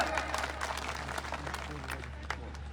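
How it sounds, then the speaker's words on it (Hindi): An audience at a Yadav community rally in Shimla applauds to welcome Babita Phogat, with steady, moderately loud clapping from a crowd and a voice talking over it. "इनके लिए जोरदार तालियों से स्वागत"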